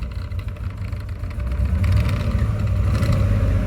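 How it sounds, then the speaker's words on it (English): A truck's 3-valve engine running on a 2-valve computer idles low, giving a steady, close, dense rumble that holds throughout with a slight swell midway. "it's idling low so that it's not charging, but this is a 3-valve motor running on a 2-valve computer."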